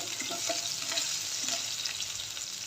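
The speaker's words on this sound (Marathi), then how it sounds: "मिरचीसोबतच इथे मी लसणाच्या ना चार तीनचे ते चार अशा पाकळ्या ठेचून घेतल्या त्या पण टाकून तळून घ्यायचं" Green chilies and crushed garlic cloves fry in hot oil, a dense continuous sizzle heard close up with faint stirring scrapes underneath and no talking.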